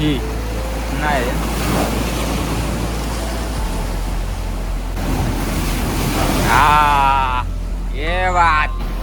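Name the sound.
sea waves at Mandavi beach, Ratnagiri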